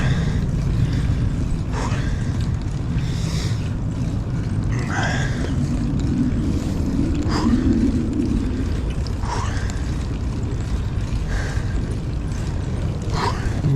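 Wind rushes steadily and loudly past while cycling uphill on a long, steep climb, a continuous low roaring buffet with faint intermittent higher sounds and no talk.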